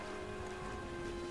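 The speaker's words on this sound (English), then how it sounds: "This bloody rain." Rain falls steadily in the game Metaphor ReFantazio, a faint, even patter under a quiet tonal hum, with no talking.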